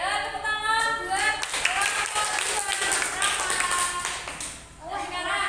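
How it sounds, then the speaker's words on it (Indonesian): Children clapping together in an Indonesian fourth-grade classroom, a brisk burst of hand claps over background chatter and a teacher's voice, lasting a few seconds before the talk continues. "Ya, tepuk tangan buat"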